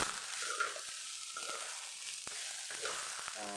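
Soya chunks, peas and cauliflower stir-frying in a pan in a home kitchen: a steady broad sizzle with scattered scraping and clinking from stirring, close and fairly quiet.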